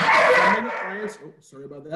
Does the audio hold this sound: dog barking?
yes